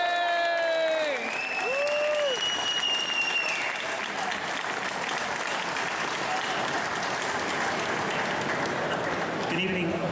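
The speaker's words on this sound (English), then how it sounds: "give it absolutely loads in this noisy atmosphere for the wonderful, the lovely Mr. Charley Boorman" An audience at the MCN Motorcycle Show in London bursts into loud, sustained applause and cheering. A voice is heard at the start, and the clapping then carries on alone.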